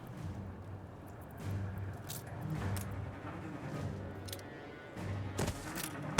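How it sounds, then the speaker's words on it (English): Explosions in the city-building game Anno 1800 as a factory district burns, heard as a steady stream of muffled blasts and crackling bursts over a dense rumbling bed, with a few sharper pops near the end. "Oh my god, everything explodes!"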